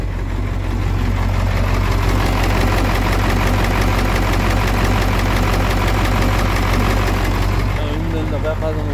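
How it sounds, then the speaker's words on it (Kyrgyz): A used car's engine idling at close range, a loud, steady mechanical hum with a fine rattling texture that runs unbroken throughout, and a faint voice near the end. "Мотордун үнүн да угузуп койсок болот."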